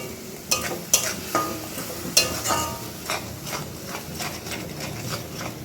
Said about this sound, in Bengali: মশলাটাকে একটু ভালো করে কষাবো দেখো ফুটতে স্টার্ট করেছে